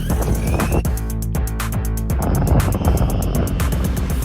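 A Jiusi PT14R RC boat on a 3s LiPo battery runs at full throttle, its motor giving a loud, sustained high-pitched whine with pulsing, rapidly cycling tones. The sound stays strong and continuous throughout.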